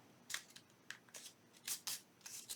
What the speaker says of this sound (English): Then you're going to fold it in half again.